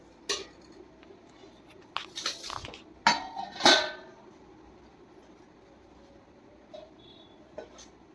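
Food being arranged on a metal plate: a few sharp clinks and clatters of utensils and dishware in separate bursts, then quiet with a couple of soft taps.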